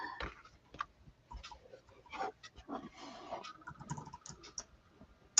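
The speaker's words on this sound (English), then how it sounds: "Sort of typing and I hit enter." Keystrokes on a computer keyboard come in bursts of uneven clicks with a louder final tap, like pressing enter, heard close up against faint room noise.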